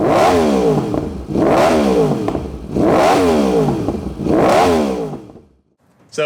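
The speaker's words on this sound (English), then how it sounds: "the R1 with this SC Project CRT exhaust, it's a little loud." A Yamaha R1 motorcycle with an SC Project CRT aftermarket exhaust revs loudly four times in a steady cycle, each rev rising and falling with a harsh, raspy exhaust roar, then goes quiet.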